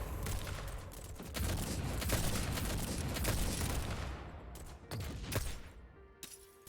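Gunfire in the Girls Frontline video game: a dense, continuous fusillade of rapid shots that roars steadily for several seconds, then thins into a few scattered cracks near the end.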